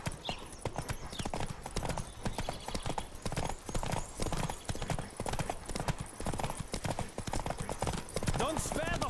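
Horse hooves pound in a rapid galloping rhythm in The Witcher 3, a steady clip-clop drumming throughout with a brief whinny near the end, mixed with game ambience and a voice speaking over it.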